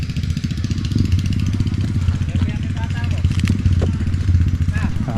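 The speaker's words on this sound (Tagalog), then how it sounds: "Daming motor." Many motorcycles at a farm during a corn harvest, a continuous low engine drone passing and idling nearby, mostly under a person talking.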